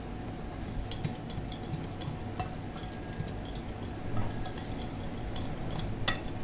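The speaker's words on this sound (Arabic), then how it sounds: "نقلب كده كويس مع بعض" A spoon stirs thin, runny cake batter in a bowl, a soft steady swishing with occasional light clinks against the side, quiet and close with no voices.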